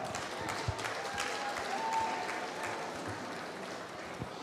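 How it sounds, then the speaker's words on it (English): Audience applause at a hospital charity gala dinner, a steady, broad wash of many hands clapping, with a few sharper claps standing out from the crowd. "So please put your hands together for Suhail Ahmed Khan."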